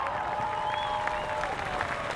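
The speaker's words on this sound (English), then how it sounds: "And a big round of applause from the crowd here." Crowd applause at Indianapolis 500 qualifying, a steady wash of clapping and cheering that lasts the whole stretch, with a faint sustained tone running underneath.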